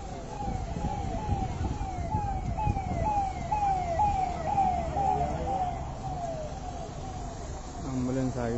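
An ambulance siren wails in repeated rising-and-falling sweeps, held up on a road blocked for a political leader's convoy, sounding loud and steady over a low rumble of traffic and crowd noise throughout.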